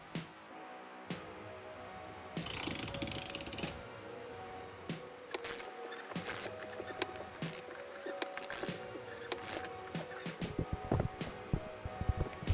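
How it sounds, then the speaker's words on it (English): A socket turns a Honda VFR750 front fork tube clamped to a table. It gives irregular metallic clicks and ratcheting taps with scraping handling noise, close and moderately loud. "I clamped one to the table and rotated it with a socket to see how it moves."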